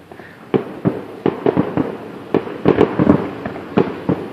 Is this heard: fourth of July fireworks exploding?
yes